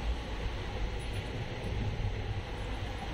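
Inside a moving passenger train on the journey home from Jabalpur, Madhya Pradesh, a continuous low rumble and rattle of the carriage rolls on evenly at close range with no voices.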